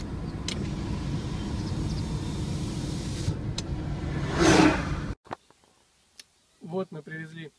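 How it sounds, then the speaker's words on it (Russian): Car driving slowly at about 40 km/h with insulation packs loaded on its roof gives a steady low engine and road rumble for about five seconds, then cuts out to near silence with brief clicks and a short burst of voices. "Едем как старики 40 км в час."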